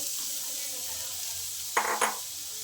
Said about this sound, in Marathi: छान असं आपलं पॅन किंवा पातेलं गरम झालं आहे आणि आता आपण सगळ्या भाज्या घालून घ्यायच्या